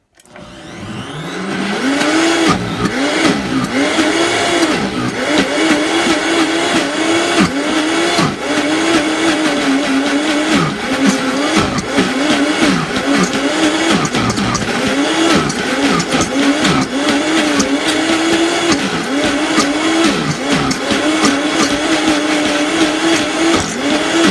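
A high-powered Vitamix S30 blender grinds peanuts into peanut butter continuously at full speed, its motor whining loud and steady with slight wavering pitch as the contents churn, no talking.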